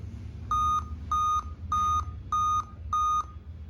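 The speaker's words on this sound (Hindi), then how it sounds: "बट ये मेरा कंटिन्यूअस ही बीप दे रहा है" A Dell Vostro 2520 laptop with a suspected RTC fault beeps at startup, five evenly spaced loud electronic tones over a low background hum.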